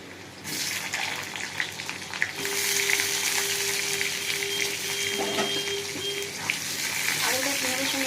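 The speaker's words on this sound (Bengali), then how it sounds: "আলুটা পেঁয়াজের সঙ্গে একটু ভাজা ভাজা করে দিই" Potatoes added to onions in hot oil in a wok, a sudden rush of sizzling that settles into a steady, loud fry with clattering stirring and a faint tonal hum.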